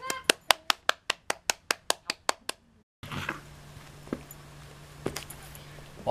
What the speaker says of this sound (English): Are you gonna clap?